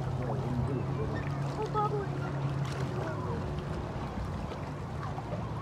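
Motorboat ride on choppy sea water off Croatia, a steady engine drone and rushing water with wind noise running continuously at moderate loudness, with a voice speaking briefly over it.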